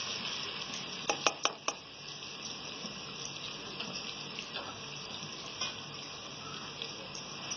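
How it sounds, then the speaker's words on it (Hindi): Onions sizzle steadily in a pan with cooking spices, a continuous close hiss with a few sharp crackling pops near the start and occasional stirring clicks, no talking. "और इसमें प्याज ऐड करते हैं। और उसको गोल्डन लाइट ब्राउन कर लेंगे हम।"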